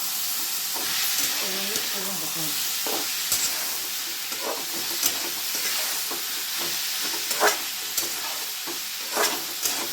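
Tomatoes fry in a pan for a chutney, giving a steady hiss and sizzle, with scraping stirs and occasional clacks of the spoon close up.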